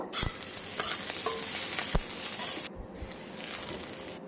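Sliced onions and green chilies stir-fried in a pan, a steady close sizzle of hot oil with scraping spoon strokes and brief clacks, easing slightly near the end.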